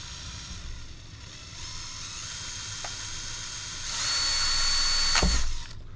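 A power drill whirs steadily while drilling a hanger, rising in pitch and intensity near the end before cutting off, with a brief sharp knock midway.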